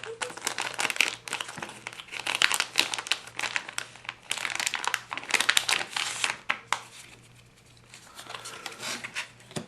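Magic The Gathering card packs torn open by hand, foil wrappers crinkling and crackling in dense, busy bursts for most of the stretch, easing off briefly near the end before resuming, with no talking.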